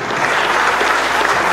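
Dense, steady applause from a symposium audience on journalism in democracy, many hands clapping at once in a loud, continuous wash with no voices over it.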